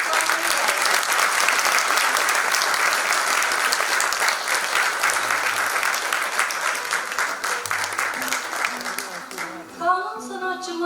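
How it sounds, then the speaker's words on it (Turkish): An audience at a Turkish classical music concert applauds a singer, loud dense clapping with crowd noise that thins out near the end as a plucked instrument begins. "Solistimiz Mehmet İnan'ı alkışlarınızla"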